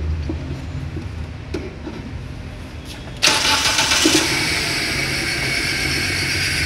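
A K14B car engine idles roughly during an ignition coil test on cylinder four, with a low uneven rumble and a sudden jump to a louder, harsher running note partway through.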